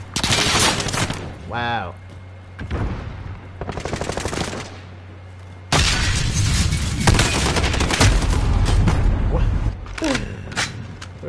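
Assault rifle fire in Call of Duty Modern Warfare, loud sustained automatic bursts with short pauses, close and punchy; a voice briefly exclaims between volleys.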